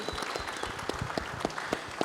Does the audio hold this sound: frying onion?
no